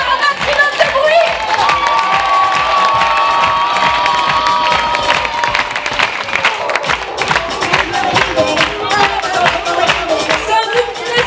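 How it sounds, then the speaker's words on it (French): A large audience at a closing show cheers and applauds steadily, with shouting children and loud, dense clapping running the whole time. "On peut applaudir Monsieur Dame, tous les participants s'il vous plaît, une dernière fois, un maximum de bruit."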